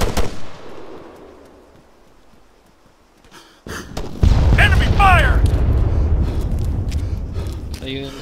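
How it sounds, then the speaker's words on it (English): Gunfire breaks out in a video game after a quiet stretch. Loud shots and bursts continue steadily while players talk over the shooting. "Who's shooting at us?"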